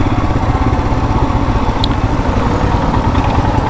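A group of motorcycles rides together on an offroad jungle route in Bargarh district, including a Jawa, Royal Enfield Himalayans, a Pulsar NS and a Pulsar 220. Engines drone steadily and loudly throughout, with no talk.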